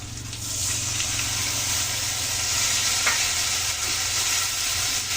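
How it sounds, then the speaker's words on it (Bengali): Spice paste with tomato and cumin masala frying in a pan for a cauliflower and potato dalna, a steady close sizzle throughout with a few stirring scrapes, no voices. "মশলা ভালো করে কষিয়ে নেবো সরষেটা পর্যন্ত"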